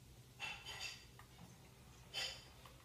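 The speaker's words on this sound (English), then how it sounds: "Sorry if you guys hear background noises inside my house also, because my sister, she's like in there doing dishes or something." Dishes clinking and clattering as they are washed in another room of a house, faint and distant, in a few short bursts of clinks with quiet gaps between.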